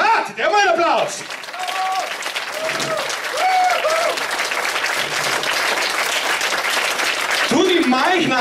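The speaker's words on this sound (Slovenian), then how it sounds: "dajmo en aplavz" Loud, continuous applause from a crowd at a music video premiere in a Celje cinema, steady clapping beneath a presenter's voice that cuts in at the start and again at the end.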